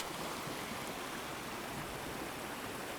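Waterfall in an icy winter stream, a steady, dense wash of falling water filling the scene from start to finish with no voices.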